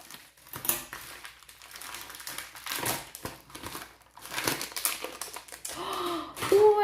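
A bright plastic AliExpress mailer bag is handled and torn open, giving close crinkling, rustling and tearing bursts in irregular bursts, with a brief voice near the end.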